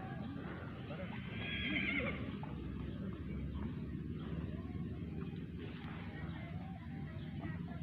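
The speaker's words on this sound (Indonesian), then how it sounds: "Nah, ini kuda-kuda selanjutnya akan berlatih." Horses gather for morning practice ahead of a traditional Gayo horse race, one whinny rising over a steady outdoor rumble with a second fainter call later and distant hoof and crowd noise.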